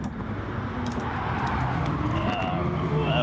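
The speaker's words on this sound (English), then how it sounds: "That Viper V10 is a beautiful sound." A Dodge Viper V10 in a racing video game revs up steadily with a loud, continuous engine drone that builds in pitch and volume over a few seconds, with other cars nearby.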